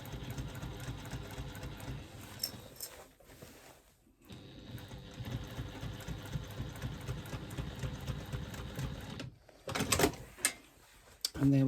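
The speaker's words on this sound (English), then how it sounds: "I've now sewn all the way around the top of my bag." A sewing machine runs steadily as it stitches around the top of a fabric bag, a quiet close whirring hum that pauses briefly, then gives way to clicks and handling noises near the end.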